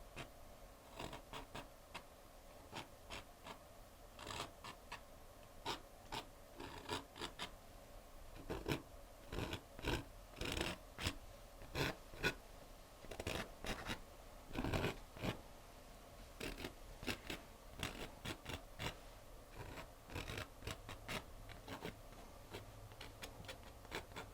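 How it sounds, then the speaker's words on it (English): Short, scratchy strokes of paint being scraped onto canvas to form tree branches, coming in irregular bursts, quiet and close with brief pauses between. "Now I like to scrape in some tree branches here and there before we do our highlights."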